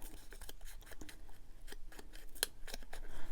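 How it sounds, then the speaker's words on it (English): Scissors trim a paper leaf embellishment for a scrappy junk journal, a series of quiet, crisp snips spaced irregularly, with one sharper cut near the end. "Maybe I'll just trim the leaf"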